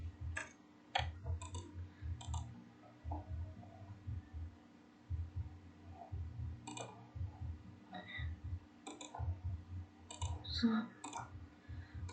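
Numbers are typed on a computer keyboard as sparse, crisp key clicks, singly and in quick pairs, over a faint steady hum.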